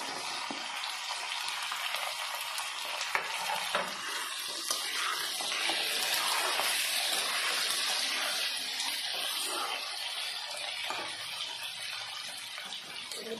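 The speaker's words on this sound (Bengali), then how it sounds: "এবার আমি সবজিগুলো দিয়ে দেবো।" Potatoes and vegetables fry in a pan with a continuous bright sizzling hiss that holds steady throughout, with no talking.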